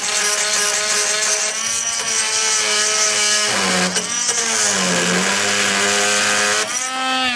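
A Dnipro-M oscillating multitool with a renovator blade at fourth speed cuts through nails and screws, a loud, sustained high-pitched buzzing whine whose pitch dips and wavers briefly as the blade bites into metal.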